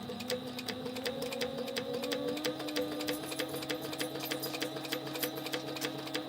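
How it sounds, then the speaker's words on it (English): A home sewing machine runs a steady basting stitch on a crossbody bag, with fast, even mechanical ticking and a constant motor whir that holds at close range throughout. "we're going to baste stitch this into place"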